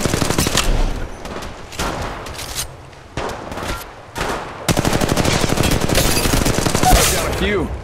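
Automatic weapon fire in the video game Apex Legends, with several bursts of rapid shots and then a long sustained stream of fire, loud and close, with some talk mixed in.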